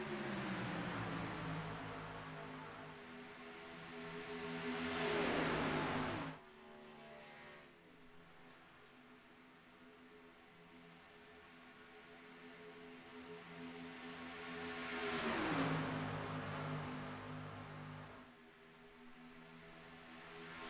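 ARCA stock cars race at Daytona in a 150-lap series event, engines roaring in two loud passing surges that rise and fall around a steadier distant drone, with no talking.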